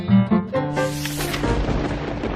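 A thunder sound effect in a children's storybook reading about thunderstorms: a loud rumbling crash that swells and rolls on for a couple of seconds, heard alone without talk.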